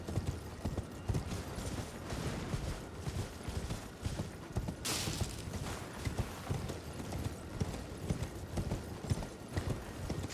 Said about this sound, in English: You're on an invisible horse.